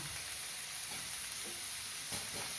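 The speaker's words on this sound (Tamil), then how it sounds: "நல்லா ப்ரௌனிஷாக வர்ற வரைக்கும் வதக்கணும்." Finely chopped onions sautéing in a pan with salt until browned for a spicy Hyderabad-style egg masala, giving a steady, soft sizzle with faint occasional stirring clicks and no talking.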